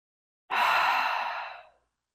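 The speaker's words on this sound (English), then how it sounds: "Another big breath in and release." A deep yoga breath released as one long, loud, breathy exhale close to the mic, starting abruptly and fading away over about a second and a half, with silence around it.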